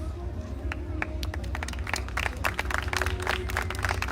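An audience at a county fair queen pageant claps, a crisp, busy patter of many hands over a steady background hum, with crowd voices mixed in underneath.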